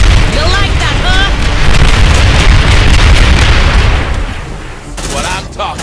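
Banshee rocket explosions in the sci-fi game Aliens: Dark Descent, a loud rolling barrage of booms and gunfire bursts with voices calling out over the blasts, easing off before a last sharp crackle.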